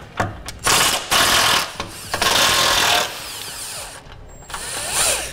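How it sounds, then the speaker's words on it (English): An impact wrench works loose the two tow hook bolts on a 2014 Toyota FJ Cruiser, heard as several short, loud, close rattling bursts separated by brief pauses. "we want to remove the 2 bolts holding our tow hook in place"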